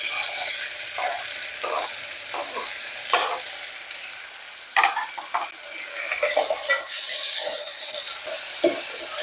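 Tomatoes and a green chilli fry in a pan for an egg curry, giving a steady broadband sizzle broken by scattered spatula scrapes and clicks, with louder bursts of hiss toward the end and no talking.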